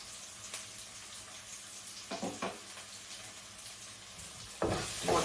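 Fenugreek and cumin seeds sizzle and crackle in hot oil in a pan, a steady close frying hiss with a few sharper pops and a louder burst near the end, no voices.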